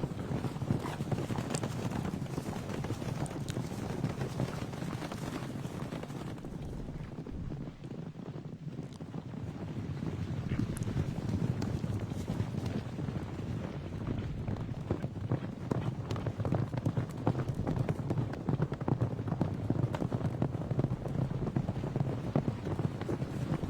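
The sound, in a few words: horse hooves galloping in video game Gallop Diva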